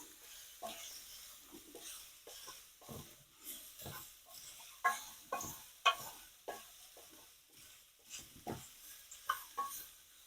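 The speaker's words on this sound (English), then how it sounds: "grab your wooden spoon and just mix it up." A wooden spoon stirs chicken basil pesto pasta in a pan, producing soft, irregular scraping and squelching strokes, close and fairly quiet, with a faint sizzle underneath.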